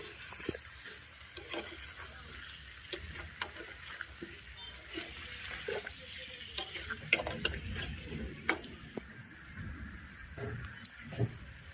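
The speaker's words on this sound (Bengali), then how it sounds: "আলুগুলো এখন ভেজে নিচ্ছি।" Potatoes frying in a pan at an outdoor home picnic crackle softly under scattered sharp clicks and knocks of stirring, fairly quiet with faint background noise.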